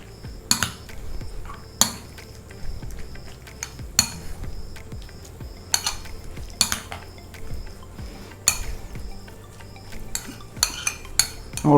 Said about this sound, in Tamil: இப்போ வந்து இதை மிக்ஸ் பண்ணிடலாம்